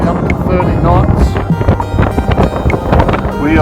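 Strong gusting wind roars across a microphone aboard a sailboat at sea, in winds up to 30 knots while rounding the Cape toward Lisbon, a loud, continuous buffeting rush with surging gusts throughout.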